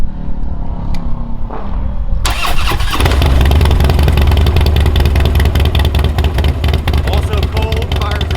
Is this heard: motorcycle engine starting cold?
yes